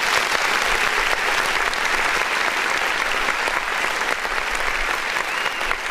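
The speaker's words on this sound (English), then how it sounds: "Clap, clap, clap." Dense, steady applause from many hands, continuous and fairly loud for several seconds with no talk over it.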